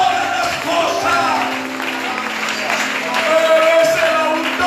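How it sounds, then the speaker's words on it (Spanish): A church congregation applauds during a sermon, a sustained wash of many hands clapping under a continuous murmur of the crowd, filling the room evenly with a slight swell toward the end. "Denle un aplauso al autor de todas las cosas."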